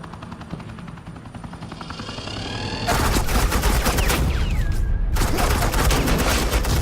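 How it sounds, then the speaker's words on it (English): Suppressing gunfire in the video game Batman: The Enemy Within, starting as a low rumbling hum that bursts into a loud, dense barrage of rapid overlapping shots with a brief lull before resuming. "Suppressing fire."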